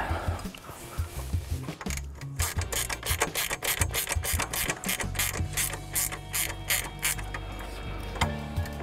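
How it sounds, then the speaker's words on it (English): Metal bolts being tightened on a deer high seat ladder, a ratchet clicking in a steady run of close, sharp strokes with some rubbing between them. "you can then lock the bolts and lock them up relatively solid"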